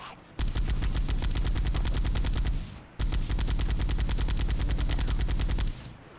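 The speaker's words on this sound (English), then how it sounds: "And I'm gonna shoot the gun." Sustained automatic gunfire from the video game Halo, loud and close, made of two long rapid bursts split by a short gap, with no talk over it.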